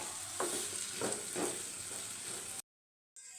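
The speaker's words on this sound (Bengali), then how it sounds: "এটাকে সুন্দরভাবে একটু নাড়াচাড়া করে আমি ঢাকনা দিয়ে ঢেকে দেবো" Potato and carrot singara filling is stirred in a pan: three or four distinct scraping strokes sound over a soft, constant sizzle, and then there is a brief abrupt silence before the sizzle returns.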